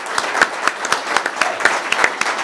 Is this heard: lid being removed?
no